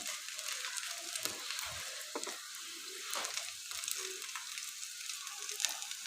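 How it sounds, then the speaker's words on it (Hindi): Bread burgers frying in a pan give a steady, close sizzle and crackle that runs unbroken for several seconds, with no talking over it. "बस इनको हल्का हल्का हमने और फ्राई करना है।"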